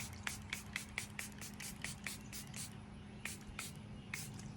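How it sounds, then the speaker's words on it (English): A pump bottle of makeup setting spray misted onto a face, giving a quick series of about a dozen short, soft hissing spritzes in a quiet room, a brief pause, then a few more. "I'm going to finish off with spraying with my setting spray."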